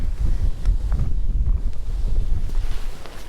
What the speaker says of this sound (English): It's a little windy out here today to be messing with straw anyway.